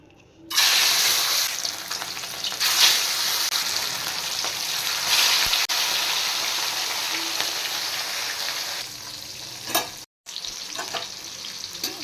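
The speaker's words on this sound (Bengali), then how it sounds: "মাছগুলো এবার ভেজে নেব" Pieces of katla fish, rubbed with turmeric and salt, sizzle and spit steadily in hot oil in a pan, a loud close crackle that runs continuously, then cuts out briefly near the end before resuming.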